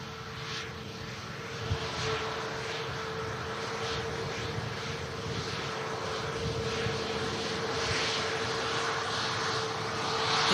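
An airliner touching down at Manchester Airport, a steady broad engine roar sustained throughout, swelling slightly toward the end, heard from a distance with no talk.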